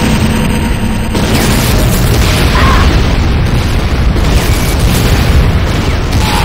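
A facility blowing up in the game Command & Conquer Renegade, a loud, sustained booming roar of explosion and debris that fills the whole stretch without letup.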